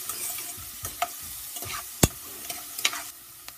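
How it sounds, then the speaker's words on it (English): Almonds and onions sauté in oil in a pan, a soft, fairly quiet sizzle broken by scattered stirring clicks and one sharp utensil knock near the middle. "I'm gonna let that saute."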